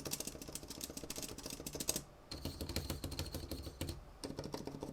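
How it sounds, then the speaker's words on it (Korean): Lubed mechanical keyboard keys on a Razer Huntsman V2 TKL pressed in rapid succession, a dense flurry of soft clacks with one brief pause, close and fairly quiet. "좌측 시프트와 스페이스바는 윤활을 한 상태이고 우측 엔터는 윤활을 안 한 순정 상태인데"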